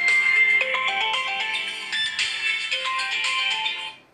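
A mobile phone plays a ringtone for an incoming call, a bright repeating electronic melody heard clearly and alone, steady throughout before cutting off at the end.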